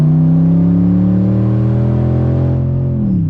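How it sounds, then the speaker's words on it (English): A 2012 Dodge Charger R/T MAX AWD accelerates hard with the gas pressed, giving a loud, close, steady engine drone whose pitch climbs slightly over about three seconds before easing off at the end. "It's big, it's body when you press the gas."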